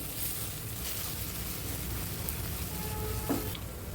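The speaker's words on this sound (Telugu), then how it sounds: "ఆయిల్లో ఫ్రై చేసుకోవాలి. ఒక 3 మినిట్స్ వరకు ఫ్రై చేసుకోవాలి." Gongura leaves frying in oil, a steady close hiss of sizzling that runs unbroken with a faint occasional stir, no voices over it.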